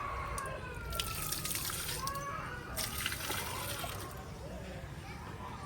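A steady stream of water pours and splashes continuously, close by, with light trickling and gurgling throughout.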